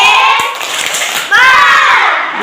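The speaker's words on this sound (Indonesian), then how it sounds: "Tepuk hebat." Children in a grade 4 classroom doing a "tepuk hebat" clapping cheer, a quick patterned burst of many small hands near the mic with kids' voices mixed in, ending in a louder final flourish.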